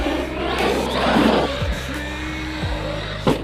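A Team Corally Kagama 4 RC car runs at full throttle, its electric motor whining loudly and steadily, with a rising pitch and some tire noise from close by.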